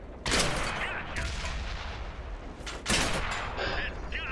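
A tank cannon firing in a war video game, two heavy booming blasts about two and a half seconds apart, each with a sharp crack and rumbling tail, near and loud.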